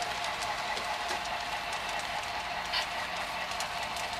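A model train runs along a multi-level model railroad layout, giving a steady, faint rolling hum with light rhythmic clicking from the wheels, no voices.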